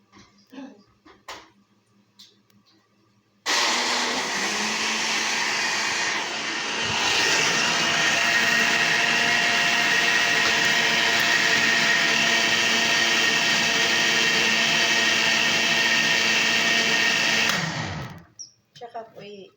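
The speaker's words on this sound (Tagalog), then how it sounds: "Ay, i-blender ko na po siya." A loud, steady whirring blender runs continuously for about fourteen seconds blending lentil soup, starting abruptly after brief quiet and cutting off near the end.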